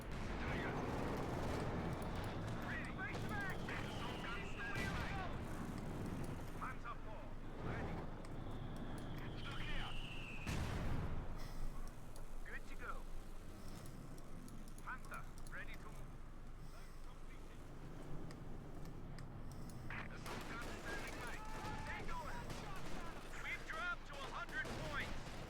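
Gunfire and bazooka blasts from a Company of Heroes 2 World War II battle against Panther and Tiger tanks, with scattered shots and explosions mixed low under nearly continuous talk.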